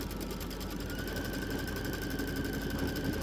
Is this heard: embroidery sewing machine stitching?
yes